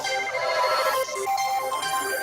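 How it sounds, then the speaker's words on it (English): A phone ringtone for an incoming call plays as a steady melodic electronic tune, loud and continuous, with no talking over it. "Oh, I've got a phone call."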